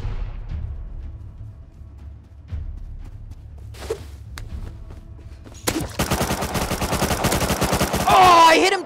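Automated turret opening fire in the survival game Rust, a sudden rapid burst of loud repeated gunshots after quieter ambient sounds and footsteps, sustained rattling fire continuing to the end.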